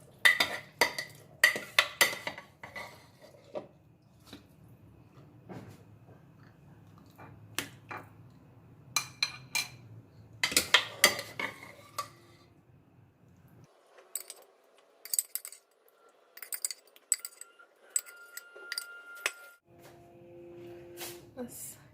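Vegetables are tossed and stirred with black pepper in a pan at home, the spatula scraping and clinking against the metal in irregular bursts, near and moderately loud, with stretches of quieter kitchen noise between.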